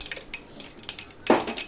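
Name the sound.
mustard seeds and cumin added to hot pan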